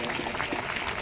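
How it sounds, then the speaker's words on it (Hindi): Audience at a foundation day ceremony of a welfare association for the blind, applauding in a brief, dense, continuous wash of clapping at moderate loudness. "जरा जोरदार तालियां बजाकर स्वागत"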